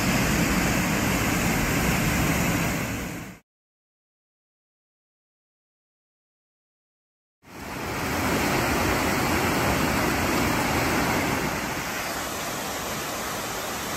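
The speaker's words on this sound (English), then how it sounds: "Beautiful little waterfall coming off the canyon wall into the beautiful river." Small waterfall spilling off a canyon wall into a river, a steady close rush of falling water broken by a few seconds of complete silence in the middle before the roar resumes.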